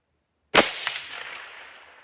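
A single suppressed rifle shot cracks sharply after a moment of silence, followed by a fading echo that trails off over the next second and a half, with no talking.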